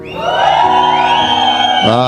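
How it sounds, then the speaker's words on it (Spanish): A church congregation lets out a loud, sustained collective shout of joy lasting about two seconds, many voices blending into one full roar. "Los que estén contentos den un grito de júbilo."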